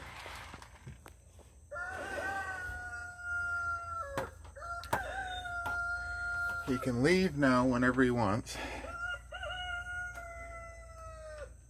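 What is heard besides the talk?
roosters crowing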